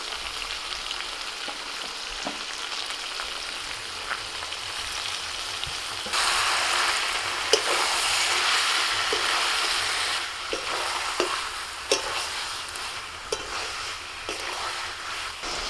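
Chicken sizzles in a pan with coriander leaves and chopped tomato added, a loud steady frying hiss that swells midway, with spoon scrapes and taps as it is stirred, close and without voices.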